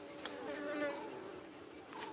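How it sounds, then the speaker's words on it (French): Bees and wasps buzz densely around a nest, a faint steady drone with some insects passing close. "Il y a des abeilles, il y a des guêpes, il y a quoi là-dedans?"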